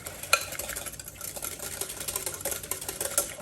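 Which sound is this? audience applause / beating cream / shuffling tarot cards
beating cream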